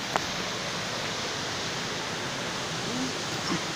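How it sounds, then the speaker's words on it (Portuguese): Steady broadband rush of the Cachoeira Água Quente waterfall, a constant wash of falling water heard up close with no talking over it. "tem a cachoeira"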